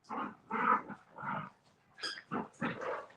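Ten-week-old puppies making a series of soft whining, grumbling vocalizations in short bursts, fairly quiet and close, with pauses between.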